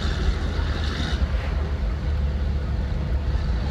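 A deleted Ram 2500 Cummins diesel truck drives along, its engine giving a steady low drone under wind and road noise, with a brief higher whoosh early on before settling into an even rumble.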